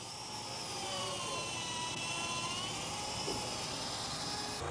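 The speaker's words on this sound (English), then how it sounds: "the reciprocating saw does a great job" A loud, steady buzzing whine of a reciprocating saw cutting into a boat hull, running continuously, close up, with no voices.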